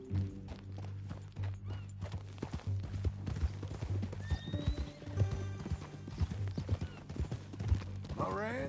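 Steady clip-clop of horse hooves walking in Red Dead Redemption II, with a horse whinnying partway through over low background sound.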